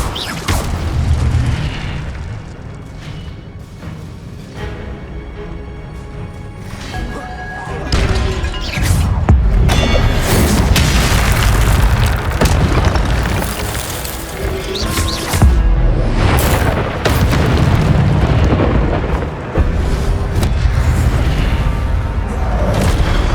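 Incendio fire spell blasts in the Hogwarts Legacy video game: loud, dense booms and crashing bursts pile up continuously, thick with rumbling low-end impacts.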